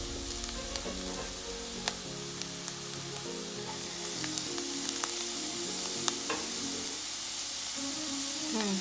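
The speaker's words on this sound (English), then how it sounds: "We just wanted to toast up a little in the oil and with the onion." Onion and cilantro stems sizzling as they toast in hot oil for baked samosa patties, a steady close frying crackle with occasional sharp pops and faint stirring, no talk.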